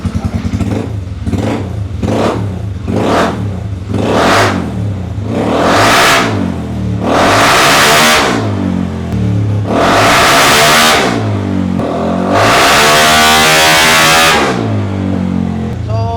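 A Honda Giorno 160cc scooter engine being remapped and tuned, revved repeatedly to full throttle: short quick blips at first, then longer sustained high-pitched rising revs that hold and drop back, loud and close with no talk.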